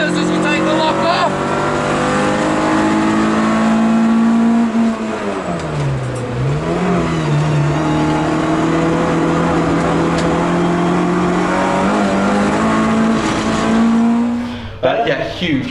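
A race car driven hard around a circuit, its engine droning loud and steady with a dip and swell in pitch through a corner, tyres working under load before the sound cuts off near the end.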